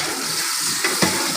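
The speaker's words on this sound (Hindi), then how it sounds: "ये देखिए ये अच्छे तरीके से फ्राई हो रहा है।" Meat fries in a pot with a yogurt and flour mixture, giving a loud, continuous sizzle with a couple of faint stirring knocks near the end.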